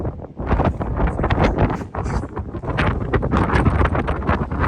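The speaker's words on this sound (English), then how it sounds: "It's so windy." Strong wind roars and buffets continuously on a mountainside above the sea in Santorini, loud and close with gusty surges and no voices.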